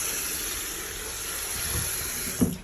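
Cold water runs steadily from a tap in a home bathroom in France, a continuous soft hiss of flow close by, with a faint clunk near the end and no talking.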